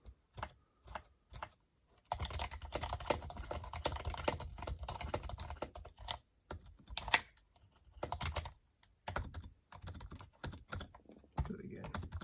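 Rapid typing on a Geodmaer 65% gaming keyboard with RGB lighting, a close, dense patter of key clicks in uneven bursts with brief pauses, heard alone without talking.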